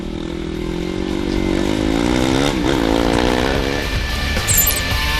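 A lighter, smaller KTM rally motorcycle races at Dakar 2014, its engine a loud sustained buzzing roar with shifting pitch as it revs and passes close by.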